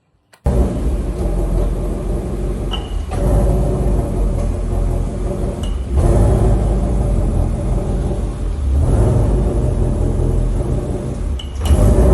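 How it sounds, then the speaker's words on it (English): A rear end on an S550 Mustang with a worn thrust washer clicks faintly under steady road and engine rumble from inside the moving car, with a few sharp ticks recurring every few seconds. "it's making some kind of weird click noise coming from the rear end"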